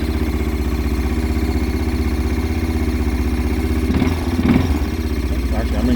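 A 2010 Kazuma Jaguar ATV engine runs in gear with a steady, rough mid-pitched drone and some clatter. A brief disturbance comes near the end.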